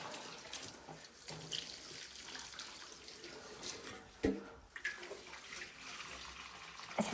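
A small watering can pours water onto a potted plant in a Victorian conservatory, a soft, fairly faint trickle and splash with brief rustles and knocks, heard close and without talk.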